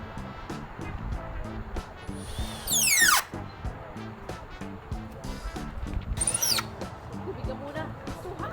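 Power drill driving screws into pilot holes while assembling a Yardistry 12x16 wooden gazebo, with two sharp rising whines of the motor spinning up and down amid steady close handling noise and talking.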